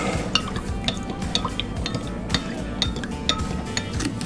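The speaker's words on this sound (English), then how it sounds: "And 2, and give that a little stir." Spoon stirring maple syrup into pancake wet ingredients in a bowl, soft swishing with several light clinks of metal against the bowl, close and quiet.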